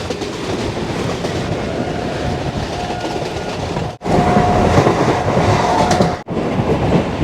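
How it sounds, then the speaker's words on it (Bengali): Hazarduari Express train rolling along the rails near Kasimbazar, a loud, steady rumble with rhythmic clatter of wheels, broken by two brief dropouts. "ট্রেন ছাড়লো কাশিমবাজার"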